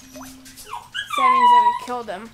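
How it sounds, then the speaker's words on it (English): Dogs in a room give a loud, drawn-out whimpering whine that rises into a sustained howl-like cry, with short yips before and after, while someone talks over them. "Sorry for the dogs. They're very loud."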